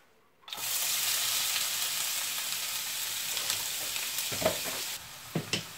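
Onion hits a hot pan for a chicken masala and sizzles loudly at once, a dense, steady frying hiss close by. A few utensil knocks and stirs come near the end, with no talking.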